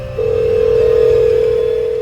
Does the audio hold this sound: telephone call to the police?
yes